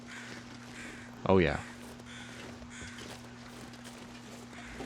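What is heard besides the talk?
crows cawing in The Long Dark video game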